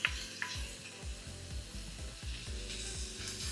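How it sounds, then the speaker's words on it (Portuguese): Chopped onion sizzles steadily in a hot iron pan, a bright continuous hiss with soft, repeated thuds and scrapes of stirring, close and clear with no talking. "Enquanto a cebola refoga, vai demorar um pouco, porque ela vai soltar toda a água até que ela comece o processo de caramelização."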